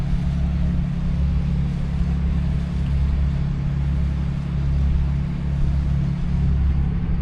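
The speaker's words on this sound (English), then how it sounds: "Yeah, I do believe that is a blue water houseboat." A deep, steady engine rumble with a low droning hum, a Blue Water houseboat motor churning along on the water nearby, continuous throughout.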